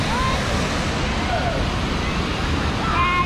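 Steady, loud rushing water from the waterfalls at High Falls Park, Alabama fills the scene with constant broadband roar, with faint bird calls or whistles drifting over it.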